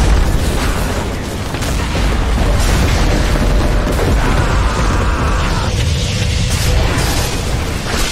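A tower collapsing in Dota 2 as a heavy, sustained booming crash rumbles low and loud for several seconds, with debris-like bursts layered over a thick bass roar.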